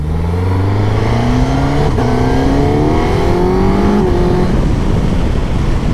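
A Suzuki GSX S1000GX four-cylinder motorcycle in sport mode accelerates hard through several gears, its loud close engine note rising in pitch with each gear before dropping at the shifts.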